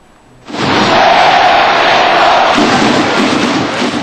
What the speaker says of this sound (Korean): 붉은 악마들의 함성이 점차 높아지고 있습니다